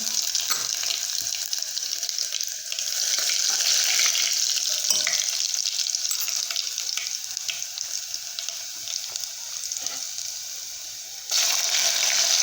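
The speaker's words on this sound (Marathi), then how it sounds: "तेल गरम झालेलं आहे जिरे मोहरी टाकून घेऊ" Cumin and mustard seeds crackle and sizzle in hot oil for methi bhaji, a steady close frying hiss with small pops that flares louder near the end.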